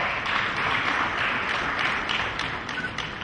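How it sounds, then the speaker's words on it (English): A crowd at a construction symposium award ceremony applauds with dense, steady clapping at moderate volume, sustained throughout. "This is the moment where we applaud."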